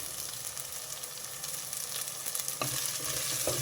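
Finely chopped leafy greens and mint fry in a pan for a healthy pulao, giving a steady, close sizzle. A scraping stir cuts in partway through, then the frying grows slightly louder, with no voices.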